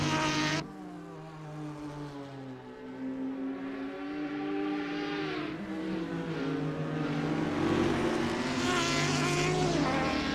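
A Porsche GT4 race car engine drones loudly in a sim racing game at Road America, holding a steady high whine with gradual pitch shifts, close and continuous, alongside other engines.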